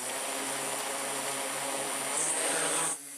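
A survey drone spins up for flight near a hangar, its motors giving a steady loud whirring buzz with a rising high whine before cutting down abruptly.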